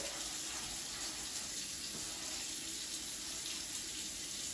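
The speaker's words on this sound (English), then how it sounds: "And now I'm going to rinse it." An air fryer basket is rinsed under a running tap, making a continuous steady stream of water splashing into a sink, fairly quiet and alone.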